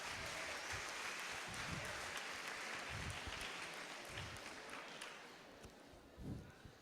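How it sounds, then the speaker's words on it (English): Audience applause at an astronaut's lecture in a university auditorium, a broad, even wash of many hands clapping that holds steady and then slowly thins out, heard with no talking. "Applause."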